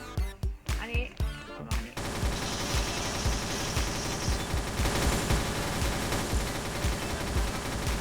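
Gunfire in the shooting game XSHOT: a few separate loud shots, then a long rapid automatic burst of dense, continuous rattling fire, up close and loud.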